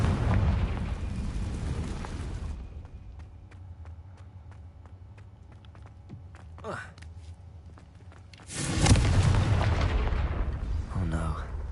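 A Confringo fire spell bursting in Hogwarts Legacy, heard as a loud whooshing blast after a quieter stretch, with a speaking voice also present.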